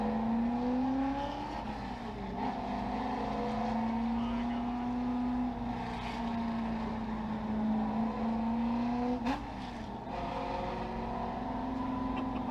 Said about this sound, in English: I've never heard a street legal vehicle sound like this thing.